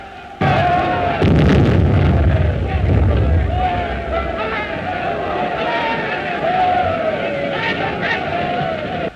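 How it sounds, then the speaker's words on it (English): Agitated crowd massing outside a royal palace after an attempt on a general's life, a loud continuous roar of many voices with sharp bursts and shouts, steady throughout as a dense, close backdrop. "The crowd outside are in a terrible state of excitement."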